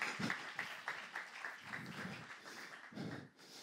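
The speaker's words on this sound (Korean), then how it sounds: "박수 주세요" A church congregation at a Saturday service claps, faint scattered applause with irregular hand claps heard from a distance over a low room murmur.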